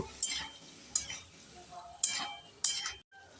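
Spoon stirring mustard-poppy paste, green chilli, ginger and spices in a pan for Bengali shukto, four distinct scraping strokes with a light sizzle between them, close by.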